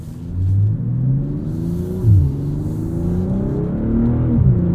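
A 2023 BMW M340i xDrive in sport mode pulls hard, its engine note climbing in steady sweeps with quick upshifts breaking the rise, a loud, close rumbling drone from inside the cabin.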